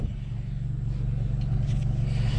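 A VW MK7 GTI fitted with a Mamba GTX3071R turbo idles and begins moving off, giving a steady, close, low engine rumble with a slight swell toward the end and no talk.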